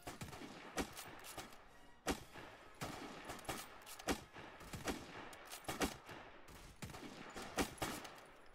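Rifle gunfire in a Roblox survival battle set at Peking cracks out in repeated sharp shots, several a second apart, over a busy background of more distant firing, with no voices.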